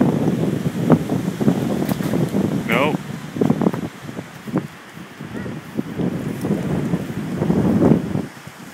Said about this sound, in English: that wind is so strong. It's right here.